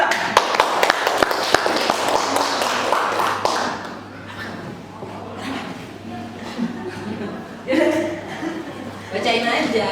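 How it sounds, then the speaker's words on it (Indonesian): Audience clapping at a short-story writing class during a literacy festival in Balige, with a burst of taps and claps early on that fades into chatter, laughter and talk. "Tepuk tangan dulu dong."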